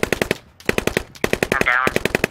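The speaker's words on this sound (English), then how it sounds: "It sounds like shots may be coming from below." Loud, close automatic gunfire in the military shooter game Squad, with rhythmic bursts of rapid shots, a short gap, then more sustained firing and a brief whine amid the bursts.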